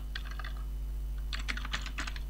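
Quiet bursts of clicking keystrokes on a computer keyboard arrive in two short flurries over a low electrical hum, close and with no one speaking.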